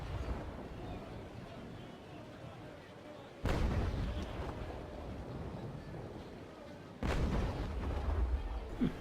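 Cannon fire from naval brigs in a sea battle video game, two heavy booming volleys landing a few seconds apart over a steady rush of wind and water.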